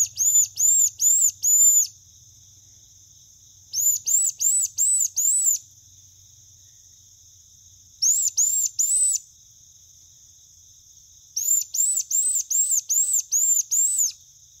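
A squirrel distress call is blown by inhaling through a hunting call, imitating a young squirrel. Four loud groups of quick, sharp, squealing notes, four to seven per burst, are separated by short pauses over a faint low hum.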